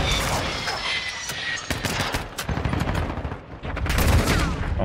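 Rapid gunfire from Call of Duty Modern Warfare 2, dense bursts of automatic shots crackling close and loud across the whole stretch, with a faint voice underneath.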